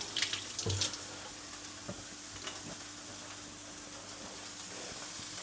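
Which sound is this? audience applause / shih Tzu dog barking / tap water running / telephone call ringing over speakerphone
tap water running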